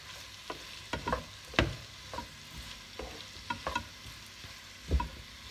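Tchakchouka, a pepper and tomato mixture, being stirred in a frying pan, a spoon scraping and knocking in irregular strokes over a soft sizzle, close and fairly quiet, with no talking.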